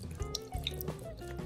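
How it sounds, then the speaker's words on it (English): Half a cup of milk poured into a pressure cooker of beef and macaroni, a close, steady liquid trickle and splash with small drips throughout. "Now we're going to add half a cup of milk."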